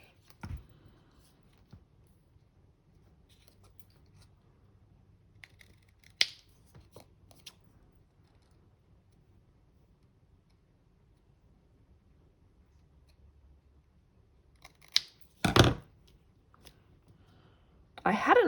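Scissors trim card stock in a few sparse, quiet snips spread over a mostly hushed stretch, with a sharper cluster of cuts near the end.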